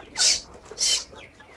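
Farm chickens squabble in two sharp, loud, high-pitched squawks in close succession, followed by a short quiet stretch.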